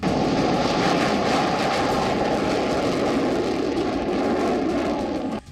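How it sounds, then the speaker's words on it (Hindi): A Rafale fighter jet roars loudly and continuously nearby, a broad thunderous rush that holds steady before cutting off abruptly at the end. "ध्वनि से भी तेज रफ्तार से उड़ने वाला रफाल अचानक आता है और जोरदार गर्जना के साथ"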